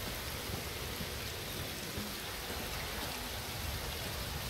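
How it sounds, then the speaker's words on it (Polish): Steady rain pours down in the open-world fantasy game The Witcher 3: Wild Hunt, a dense, even hiss of falling water that fills the scene without pause and with no voices. "a jest taki deszcz"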